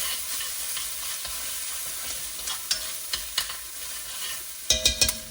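Tomato paste stirred into beef stew in a pan, a spoon scraping and clicking with a soft background sizzle, several sharper scrapes toward the end, no talking.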